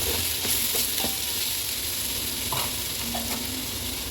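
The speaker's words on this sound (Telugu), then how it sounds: "ఇప్పుడు అవన్నీ మసాలాలన్నీ బాగా మిక్స్ చేసుకున్నాం." Spices being stirred in an oily pan for donne biryani, a continuous sizzle with scraping spoon strokes and soft clicks, close and steady throughout.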